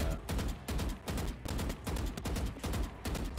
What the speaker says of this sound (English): If you do it with the Vanda like that,